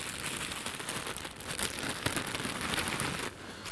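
Banoffee liquid shaken up inside a kettle gives a dense, continuous rattling, crackling swish that holds steady for several seconds and drops slightly toward the end.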